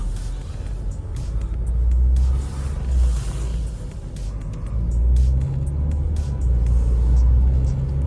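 A car engine on a test drive while still warming up gives a loud, close, steady rumble that swells and eases a few times, suggesting gentle acceleration, with no talk over it.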